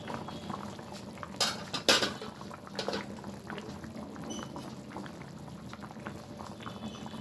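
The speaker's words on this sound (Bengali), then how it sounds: "বেশ কিছুক্ষণ পর ঢাকনাটা আমি খুলে দিচ্ছি" A lid comes off a pot of raw banana and potato curry with matar dal, giving a couple of close metallic clanks over a steady bubbling simmer that keeps going afterward.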